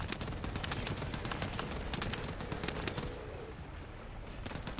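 Sustained rapid gunfire in the shooter video game The First Descendant, a steady rattle of shots during a boss fight that thins out briefly near the end before resuming, moderately quiet.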